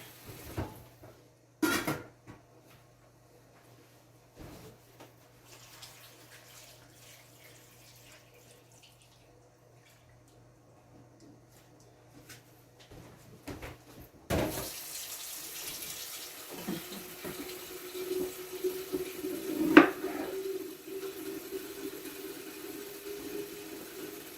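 A kitchen tap is switched on partway through, its water running steadily into a sink as a broad, continuous rush after a quiet stretch of faint handling noises, with one brief louder clunk near the end.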